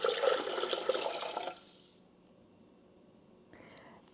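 Water, 1.5 litres in all, pours steadily into a Thermomix TM7 bowl with a close splashing gush for about a second and a half, then stops, leaving a quiet room.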